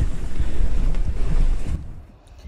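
Waves slap and wash against a small sailboat sailing to windward at sea, loud gusty splashing and wind rush that suddenly drops away near the end, no talk.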